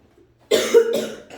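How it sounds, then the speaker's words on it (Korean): One person coughs a single harsh burst, close and loud after a moment of near silence. "기침을 그렇게 하면서"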